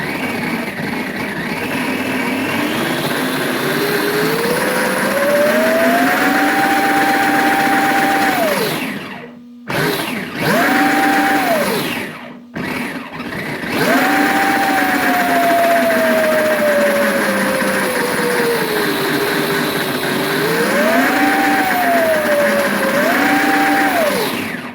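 A brushless 4370kv electric motor on a Power Wheels ride-on build revs with a loud, high whine that climbs and falls in pitch as throttle changes, with two brief cutoffs midway before spinning up again.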